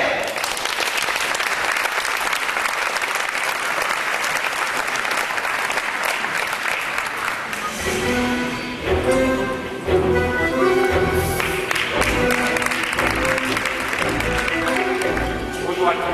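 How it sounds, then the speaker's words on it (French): Contest audience applauding competitor Phil Éclair, a loud dense wave of clapping from a crowd in a hall for several seconds, then fading as music and voices take over. "Alors on l'applaudit, je ne sais pas où il est"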